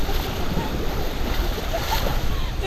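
Flood water rushing in, a loud, unbroken roar of churning water with wind buffeting close to the microphone, a voice faintly under the noise.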